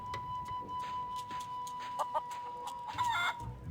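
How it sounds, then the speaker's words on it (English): A feral chicken on Plunder Island in The Curse of Monkey Island game gives a few clucks and short squawks, close and clear over a soft background with a steady tone. "Another feral chicken."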